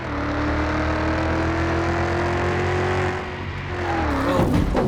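A NextGen race car in a racing video game holds a loud, steady engine drone at high revs for about three seconds, briefly drops off, then revs back up with a rising whine and a sharp scrape near the end.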